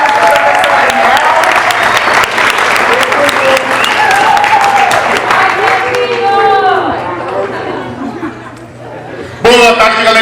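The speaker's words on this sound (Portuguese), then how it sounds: "Uma salva de palmas para o professor Daniel." Loud, sustained audience applause with cheering and chatter fills a school event hall as a teacher is welcomed, the clapping dense throughout and tapering slightly near the end before a burst returns.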